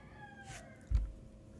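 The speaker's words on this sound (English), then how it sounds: "if you can hear that fucking rooster" A rooster crows in the background, a drawn-out wavering call that sounds faint and distant beneath a low hum, with a brief thump partway through.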